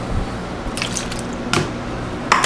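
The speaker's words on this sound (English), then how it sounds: "then we need a 3/4 cup of milk" Milk is poured into a measuring cup in a home kitchen, heard as a few brief close splashes and drips over a low steady background, with no talking.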